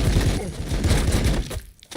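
Storm cannons fire in the Warhammer 40K Battlesector video game, a loud close volley of rapid overlapping blasts and crackling bursts that fades briefly near the end.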